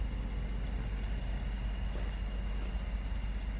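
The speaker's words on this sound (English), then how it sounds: "Looks like some kind of tree trimming truck." A tree trimming truck idles across the street with a steady low rumble, joined by a few faint hisses and clanks.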